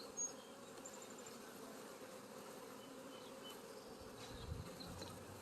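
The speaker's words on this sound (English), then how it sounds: "So we have quite a few bees still hanging out in here." Many honey bees buzz together inside a hive, a faint, dense, continuous drone with occasional individual bees passing closer.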